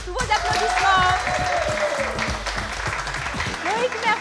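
A studio audience claps warmly to welcome candidate Loïc on a Réunion television dating show, brisk, close applause running throughout while a presenter keeps talking over it.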